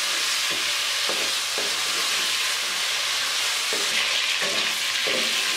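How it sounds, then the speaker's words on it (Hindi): Chicken for chicken afghani fries in a karahi with a loud, continuous sizzle and hiss, broken by repeated scraping strokes of a spoon stirring the pieces, close with no voices. "इसको फ्राई करते हुए तकरीबन 5 मिनट हो गए हैं, तो मैं इसको 5 मिनट और फ्राई करूँगी।"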